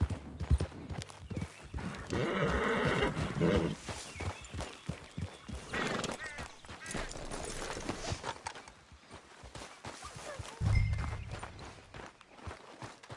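Horses in Red Dead Redemption 2 clopping along with steady hoofbeats, a brief whinny-like burst and a heavy thump near the end, mixed with game movement noise, no speech.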